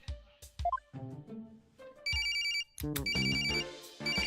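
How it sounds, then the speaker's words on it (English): A mobile phone ringtone in the video game Ace Attorney Spirit of Justice, a bright repeating electronic ring in short bursts following chimes and music. "it's my Inspector Gadget's phone."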